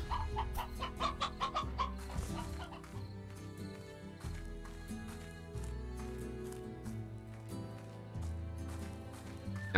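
Hens in the video game Slime Rancher cluck in quick repeated bursts over a steady looping game soundtrack, fairly quiet, with no speech.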